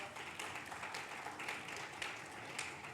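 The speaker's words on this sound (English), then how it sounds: "big round of applause." An audience at an awards ceremony claps in a faint, distant, continuous round of applause.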